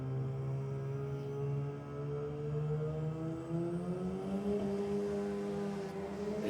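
Two drag race cars hold on two-step launch control at a V8 versus rotary night, a steady buzzing engine drone with stacked harmonics that climbs slightly in pitch, loud and continuous throughout.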